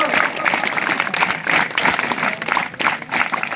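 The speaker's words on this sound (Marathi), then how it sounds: "Scout clap go." A group of children at a scout and guide gathering in Buldhana district give a scout clap, loud rhythmic group clapping in quick bursts, close and continuous.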